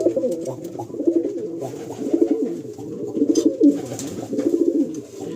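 Kalsira breeder pigeons cooing close by in a loft, a steady overlapping stream of low throaty coos and burbles from several birds, with faint rustling behind.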